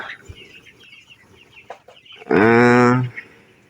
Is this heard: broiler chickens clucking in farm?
yes